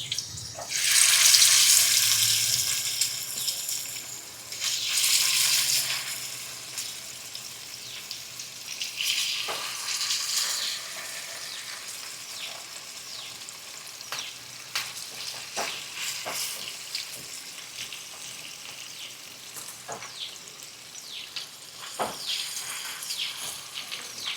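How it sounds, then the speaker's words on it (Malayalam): Mackerel frying in hot oil with curry leaves in a pan gives a loud burst of sizzling and spitting at first, then a steady, softer crackle with occasional pops, close by and without talk. "അതിനെ വറുത്തെടുക്കാനായിട്ട് ഞാനൊരു പാനിൽ കുറച്ച് ഓയിൽ ഒഴിച്ചിട്ടുണ്ട്"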